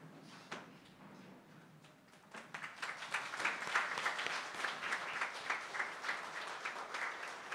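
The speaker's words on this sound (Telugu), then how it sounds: "ఒక్కసారి లేచి నిలబడి చప్పట్లు కొడదామా" A church congregation rises during a Sunday service, with shuffling and a few bumps at first, then a growing round of clapping from many hands that holds moderately loud to the end.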